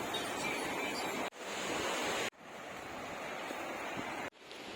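Sea waves roll in at Kelva Beach, a broad, steady wash of surf heard close and fairly loud, broken by a couple of abrupt cuts.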